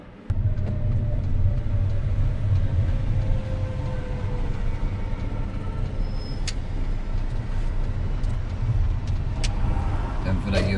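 A car on a driving lesson rumbles along at steady speed, with continuous low road and engine noise, a few faint clicks and higher tones, and occasional talk inside the cabin.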